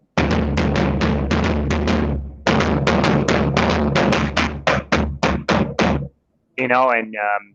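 Loud, steady maracatu drumming in the baque martelo rhythm, a driving pattern of repeated sharp strokes, a brief pause, then more strikes before a short tonal ring at the end.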